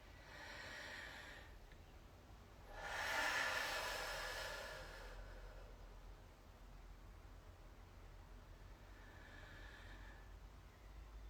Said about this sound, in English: With the heat over your ears, breathe in.